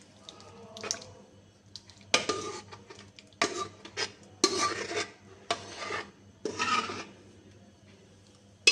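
Sweet vermicelli is served out with a metal spoon, giving several bursts of scraping and clanking against a pot and serving dish, separated by short pauses.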